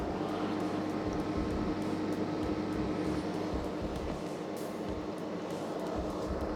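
A Ninja Slushi slush machine runs with a steady mechanical hum, a low motor drone and faint whir, continuous and moderately loud throughout, no voices.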